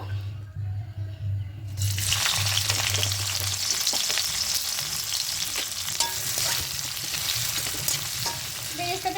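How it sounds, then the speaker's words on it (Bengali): Onions for birista for potato biryani start frying in hot oil in a wok, a bright, continuous sizzle with stirring that bursts in after a low hum and keeps going to the end. "এবার প্রথমে কড়াইতে তেল দিয়ে দিয়েছি এবার এখানে বেরেস্তাটা করে নেব"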